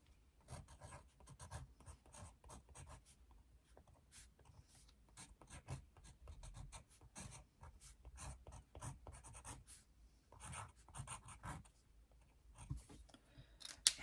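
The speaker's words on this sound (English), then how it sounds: "I always write something at the bottom." Writing at the bottom of a drawing makes faint, close pen or pencil scratching in quick irregular strokes with short pauses, quiet throughout.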